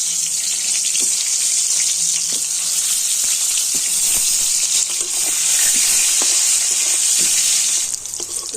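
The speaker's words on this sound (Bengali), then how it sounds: "আর এবার আমি পটল ভেজে নেব।" Pointed gourd (potol) slices fry in hot oil for a Bengali New Year thali: a steady, loud sizzle holds throughout with small crackles and pops, and no one speaks.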